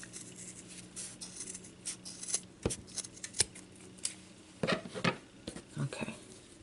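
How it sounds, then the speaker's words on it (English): Scissors snip through ribbon to make small craft bird nests, giving a few sharp, close cuts scattered over quiet rustling handling noise with no talk. "I'm going to cut about maybe a fourth of an inch"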